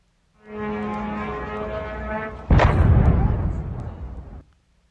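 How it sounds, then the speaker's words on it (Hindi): A droning Shahed drone engine hum with a rising tone builds for a couple of seconds, then cuts into a loud, rumbling explosion at a US base in Kuwait that roars and fades away. "ड्रोन के फटते ही जबरदस्त धमाका हुआ, आग का गोला बन गया वहां पर।"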